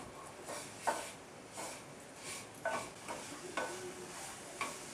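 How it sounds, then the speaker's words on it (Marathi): Sugar and grated coconut being stirred together in ghee in a pan for modak filling, a soft scraping stir with faint sizzle, repeated in a loose rhythm of strokes, close and quiet with no talk. "चला आता तुपामध्ये ना साखर आणि नारळाचा चव आहे ना तो एकजीव करून घेऊया"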